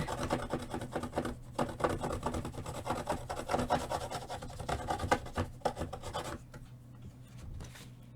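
An embossing tool rubs and rasps against paper in quick, uneven back-and-forth strokes for dry embossing, close and fairly faint, then eases off.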